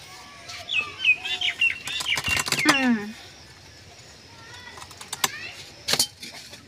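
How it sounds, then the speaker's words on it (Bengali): Bird chirps in short bursts of sweeping, high-pitched tweets mixed with fluttering and rustling, fairly close, pausing between calls in a quiet outdoor setting. "পাখিটা"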